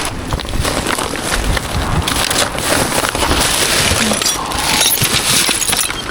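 Broken glass drinking vessel being handled while dumpster diving, a loud, close clatter of shards scraping and clinking over several seconds amid wind noise.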